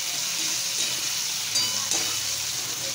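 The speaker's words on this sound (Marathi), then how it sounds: "डाळ छान परतून घ्यायची होतं" Soaked toor dal being sautéed in a pan for fenugreek-leaf bhaji, a loud, close, continuous sizzle with faint stirring scrapes running through it.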